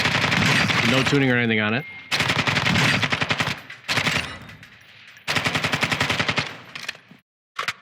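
Rapid automatic gunfire in the Call of Duty DMZ firing range, loud and close, coming in several long sustained bursts with short gaps between them. Someone talks briefly over the shooting.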